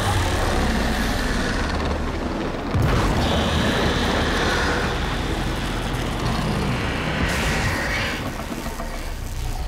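A large explosion in the Warframe game area Heart of Deimos: a loud, dense rumbling roar fills the stretch, with a fresh booming surge near three seconds and a brighter crackle of falling debris that ends abruptly near eight seconds.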